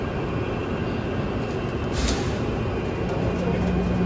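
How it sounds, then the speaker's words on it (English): Loud, steady rumble of an airport shuttle train departing, with a brief hiss midway and a faint tone near the end, no talking. "This train is departing."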